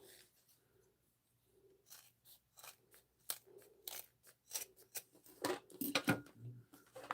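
Scissors snip through the fabric stitching of a small sewn trinket pouch, a series of crisp close cuts in an irregular rhythm that grow louder and busier toward the end.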